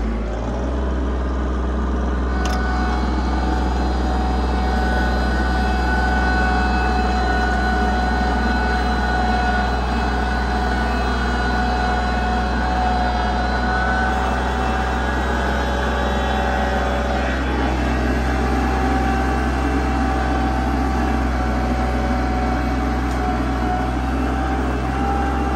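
An RK24 tractor grinds along a muddy road in low gear with four-wheel drive engaged, its engine a loud, steady low drone that holds nearly unchanged from start to finish.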